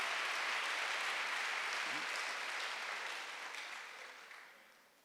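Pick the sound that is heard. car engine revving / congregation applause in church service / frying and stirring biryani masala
congregation applause in church service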